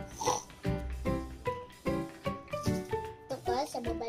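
A human voice imitates a pig oinking in a series of close, voiced grunting bursts, with other people talking around it.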